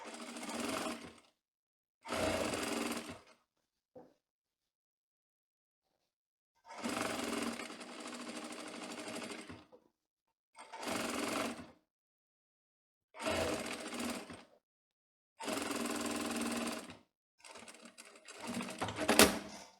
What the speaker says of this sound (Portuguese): você dá uma ajudadinha na sua máquina de costura